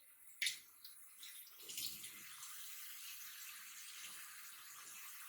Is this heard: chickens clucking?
no